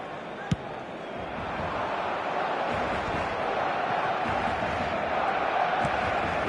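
A football video game crowd roars in a steady, dense wash of cheering that fills the whole stretch, with one sharp thump near the start and no clear voices on top.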